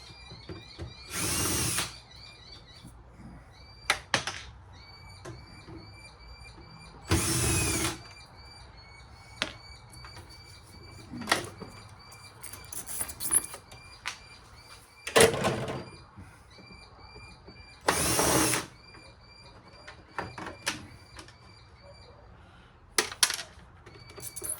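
A power drill runs in short loud bursts of a few seconds each, backing screws out of an old plastic air conditioning unit, separated by quieter clicks, rattles and handling of parts.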